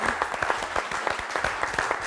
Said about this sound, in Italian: Facciamo un applauso sia a tutti i volontari e a voi che fate tanto per il vostro territorio.